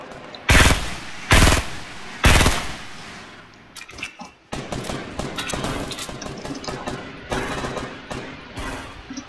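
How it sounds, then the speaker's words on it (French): Video game machine gun fire: three loud, separate bursts of rapid shots, then a dense stretch of continuous lighter gunfire and clatter, close and harsh. "ce qui est sûr, c'est que ça mitraille par là-bas"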